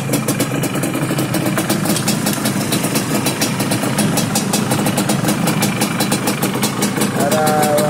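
A Yamaha DT125 motorcycle engine idles close and loud with a fast, even two-stroke pulsing that holds steady throughout.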